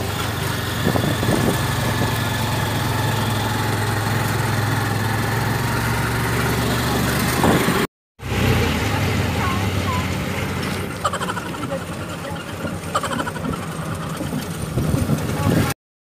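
Honda CB125 motorcycle tricycle engine running steadily on the zigzag road to Puerto Galera, a loud continuous drone with wind and road noise, briefly cut off and then resuming at a similar level.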